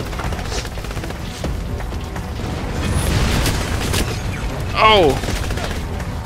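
Video game gunfire in James Bond 007 Legends: scattered shots crack through a busy game mix, with a man briefly exclaiming near the end.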